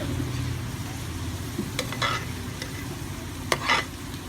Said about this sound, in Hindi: आप लोग इस तरीके से इसको दरमियानी आंच पे फ्राई करें